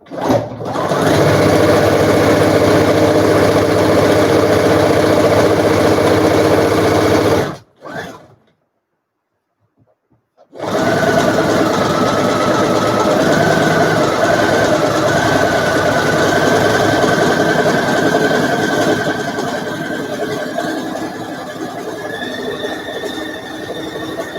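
A sewing machine runs loud and close as it zigzag stitches fabric face masks in a steady mechanical whir. It stops for a few seconds, then starts again with a faint high squeal.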